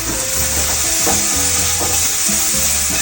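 Teriyaki chicken and vegetables stir-fry in a hot pan, a steady loud sizzle and crackle with soft stirring scrapes, close and without speech.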